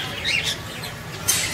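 Caged parrots, large birds kept for sale, give a few short, sharp squawks and chirps at moderate distance over a faint background hum.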